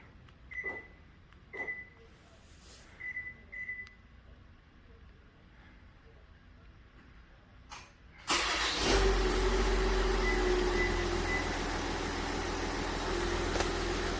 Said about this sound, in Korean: 원격 시동 한번 걸어보겠습니다